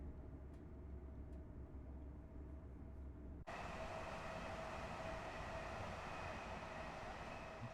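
A Class 801 train in Train Simulator Classic runs with a steady low rumble and hum, which jumps suddenly to a louder, brighter roar partway through and then holds.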